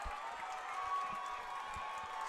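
Steady crowd noise from the stands at an Adrian vs Tecumseh football game, a broad continuous roar of cheering and clapping that never lets up, heard from some distance.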